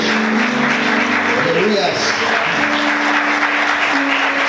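A church congregation applauds at a Christian service, steady loud clapping throughout with a voice calling out over it.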